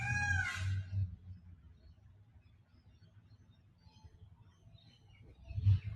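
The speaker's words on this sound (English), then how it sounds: "I can hear peacocks behind me." A peacock gives a single loud, wailing call close by at the start, followed by quiet outdoor ambience and a faint low thump near the end.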